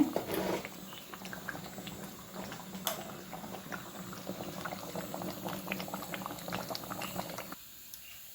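Country chicken curry boils in a pot on the stove, a continuous close bubbling and popping with irregular soft blips that carries on until it cuts to near quiet at the very end.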